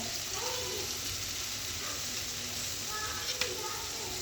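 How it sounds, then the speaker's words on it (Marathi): Turmeric, salt and homemade spice masala sautéing in a pan for an eggplant bharit, a quiet continuous sizzle with faint stirring scrapes, close and alone. "परतून घेऊया छान."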